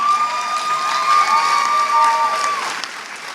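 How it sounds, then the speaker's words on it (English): A commencement ceremony audience applauds, with a steady wash of clapping and some cheering. A faint whistle-like tone runs through the middle before the sound fades slightly toward the end. "yeah, you can applaud."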